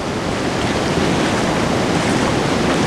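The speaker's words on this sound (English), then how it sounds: "I've got to actually walk away from the ocean right now because the tide's coming in." Ocean surf from an incoming tide washes up a beach with a steady, loud roar of breaking waves and wind, unbroken and with no pauses for its full length.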